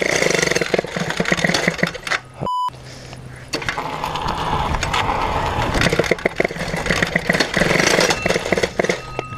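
A Peugeot 103 moped with a Malossi 70cc kit runs roughly at low revs, a loud, steady buzzing two-stroke drone close by with uneven pulses and a brief electronic beep partway through.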